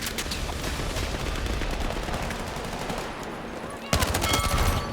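Suppressed gunfire in the video game Battlefield 6, rapid bursts of automatic shots close by that turn sharper and louder near the end, with a voice now and then.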